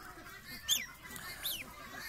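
Chickens on a farm, two brief high clucking calls about a second apart over a faint, steady background.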